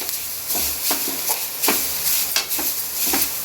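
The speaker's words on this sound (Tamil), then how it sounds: "அதே சட்டியில் நம்ம 2 மூடி தேங்காவை துருவி வச்சுருக்கோம், அதையும் வதக்கி எடுத்துக்கணும்." Grated coconut is sautéed in a pan, a soft sizzle broken by repeated scraping strokes of a spatula stirring it, close and fairly loud with no speech.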